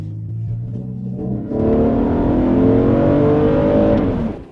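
An Infiniti QX50 without a turbo accelerates: a low engine hum swells into a louder rising drone with climbing harmonics, heard close from inside as speed builds.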